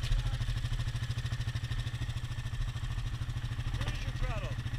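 A stuck vehicle's engine runs with a rough, pulsing low drone while being throttled on ice, close and steady throughout, with a voice briefly audible near the end.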